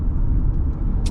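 2024 Hyundai Tucson SEL four-cylinder on a test drive, a low steady cabin rumble of engine and road noise from inside the car.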